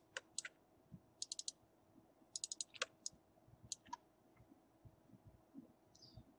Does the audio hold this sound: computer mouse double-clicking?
yes